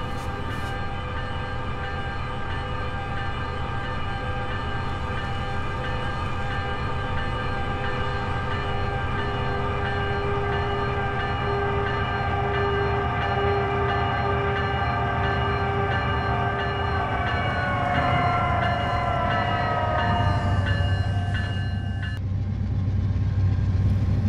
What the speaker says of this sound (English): BNSF 6866 East leads a CSX unit oil train to Bedford.